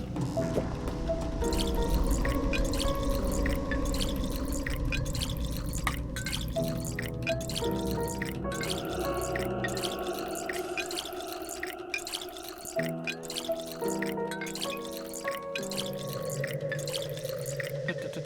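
Water dripping and splashing into a container in the video game Pathologic 2, a steady run of liquid drips and trickles over a continuous background, with no talk.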